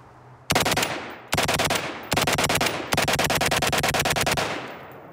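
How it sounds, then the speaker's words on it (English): A large-caliber gun fires on full auto in four long bursts, each a loud, rapid string of close shots separated by short breaks, with the last burst the longest. "Now if I put it on full auto, let's make sure my earplugs are completely seated."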